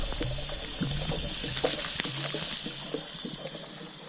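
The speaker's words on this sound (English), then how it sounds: "Now you can see the water is rushing out of the valve where the air should be coming into." Water rushes out of the air valve of a residential well pressure tank with a broken bladder, a steady hissing spray broken by irregular clicks and gurgles, close and fairly loud.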